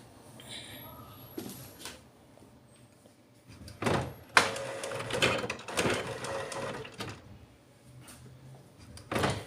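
An HP OfficeJet Pro 9013 printer running its first print alignment after setup, spraying ink, gives off bursts of mechanical clunks, whirs and carriage shuffles in irregular spurts, close by and fairly quiet.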